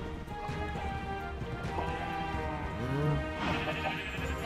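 Sheep in the Minecraft video game let out a wavering bleat partway through, over steady game background noise and soft hoof-like clopping.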